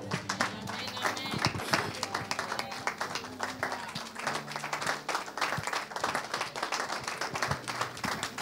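Church congregation standing and acclaiming, loud continuous clapping and cheering filling the hall, with a voice speaking over the applause.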